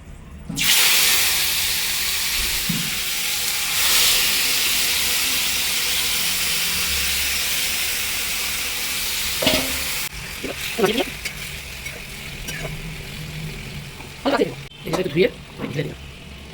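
Black cumin seeds dropped into hot oil in a home kitchen burst into a loud, bright, hissing sizzle that slowly fades, followed by stirring clatter and scraping in the pan, with a voice talking in the background.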